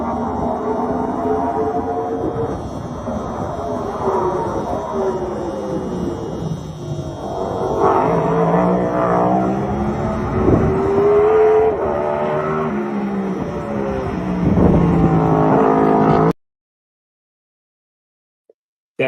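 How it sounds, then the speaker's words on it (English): A NASCAR Next Gen race car testing at Charlotte Motor Speedway roars past repeatedly, its engine note rising and falling through gear changes and passes, loud and close before cutting abruptly to silence near the end. "we have audio of the next gen car testing at Charlotte Motor Speedway"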